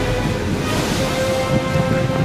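Huge storm waves roar at sea, a loud, unbroken wash of surf and wind with no clear breaks.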